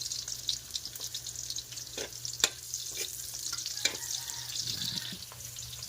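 Garlic and onion sautéing in a pan for spaghetti, with a soft continuous sizzle and occasional clinks and scrapes of a utensil, close and moderately quiet.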